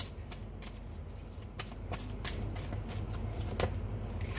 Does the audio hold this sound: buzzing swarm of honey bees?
no